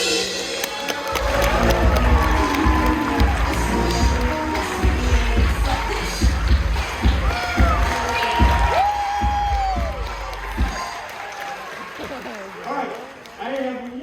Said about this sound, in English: receive a thunderous round of applause